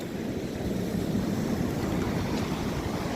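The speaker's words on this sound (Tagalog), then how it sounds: "pag ganito kalakas ang alon, hindi na po pwede rito yung mga bangka na maliliit" Rough open sea with strong waves, a dense continuous wash of churning water and wind noise, loud and close throughout with no voices.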